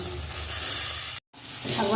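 Leafy greens such as red or mung greens frying in a pan, giving a steady close sizzle with stirring, cut by a brief silence before the sizzling resumes.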